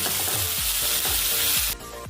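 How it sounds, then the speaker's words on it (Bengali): Onions frying in a pan over low to medium flame give a steady close sizzle, with a few stirring scrapes through it before the frying noise drops off sharply near the end. "পেঁয়াজ কখনোই হাই ফ্লেমে ভাজতে যাবেন না, লো টু মিডিয়াম ফ্লেমে লালচে করে ভেজে নেবেন"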